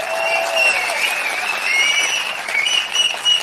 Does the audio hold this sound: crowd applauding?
yes